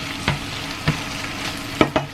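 Chicken in sweet and sour tomato sauce sizzles in a pan while a utensil stirs it, giving four short scraping strokes over a steady background frying hiss.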